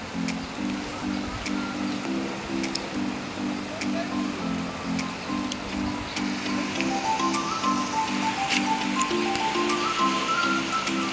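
Floodwater surges through a village after a cloudburst of about ten inches of rain in four hours, a steady broadband rush running the whole time with a repeating low pulsing tone layered over it.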